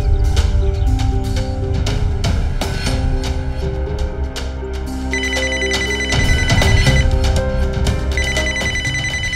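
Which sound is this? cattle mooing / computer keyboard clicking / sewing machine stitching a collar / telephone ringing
telephone ringing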